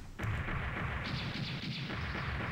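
Rapid, dense bursts of crackling, rumbling explosions in the Saturn version of Mega Man X3 run continuously for a couple of seconds, moderately loud with no voices.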